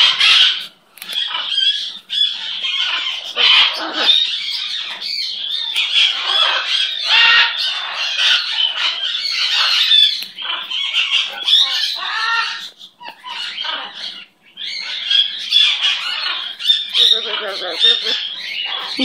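A pet bird squawks and chatters almost continuously at close range, with loud, harsh calls in bursts and brief pauses between them.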